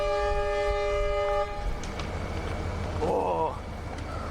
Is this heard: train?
yes